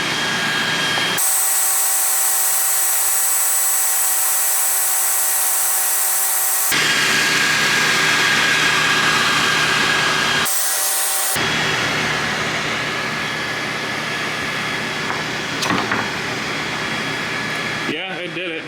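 A Creality Falcon 2 40-watt laser cuts through two pieces of 3/4-inch maple, and a steady loud whine and airy hiss from the machine switches abruptly on and off in long stretches.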